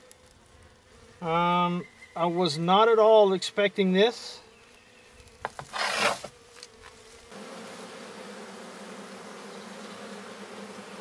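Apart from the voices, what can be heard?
honeybees buzzing in opened hive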